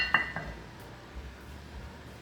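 A metal lid set onto a pot of simmering lotus root and peanut soup makes a quick clink and a softer follow-up tap near the start, then the pot hisses quietly.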